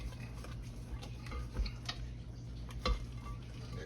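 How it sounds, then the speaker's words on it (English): Cold sweet potatoes and butter are stirred and scraped in a bowl, giving soft, faint ticking clicks and occasional duller knocks over a low background hum. "We're gonna mix this up here. Scrape this down here a little."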